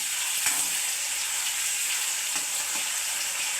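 Tomatoes frying in a pan with garlic, green chilies and onion give a constant close sizzle, with a couple of faint utensil taps and stirring sounds and no talking.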